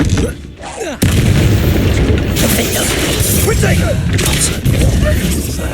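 Loud explosive spell blasts from the Confringo fire spell in Hogwarts Legacy, a sharp burst at the start followed by sustained roaring, crackling combat noise with repeated impacts; voices can be heard.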